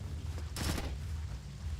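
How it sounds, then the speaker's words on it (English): A short burst of gunfire in the video game Splinter Cell: Chaos Theory crackles once amid a steady low hum of background noise, brief and moderately loud before fading back to the drone. "I'm hearing gunfire down there, Fisher."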